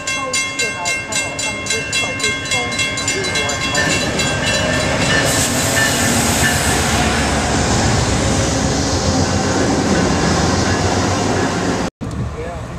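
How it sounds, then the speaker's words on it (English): Amtrak passenger train rolling through snow, a loud steady rumble with rhythmic clatter of wheels over rail joints up close, and a rising hiss of blown snow partway through. "Train is kicking up a heck of a lot of snow."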